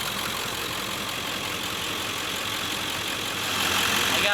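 A car engine idles steadily with a constant hum and rumble, close and fairly loud, rising slightly near the end, with no talking.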